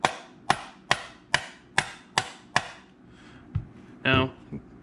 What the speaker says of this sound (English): you can use the hammer and gently tap down